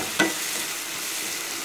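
Tomatoes sautéing in a pan for a potato and butter bean gravy give a steady, soft sizzle, with one brief clink of stirring near the start and no talking.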